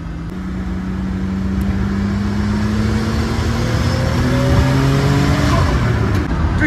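A Venturi 400 Trophy sports car engine, 408 hp, revs up hard and climbs steadily in pitch as it accelerates on a road, loud and close, with the roar building throughout.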